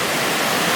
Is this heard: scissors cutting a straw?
no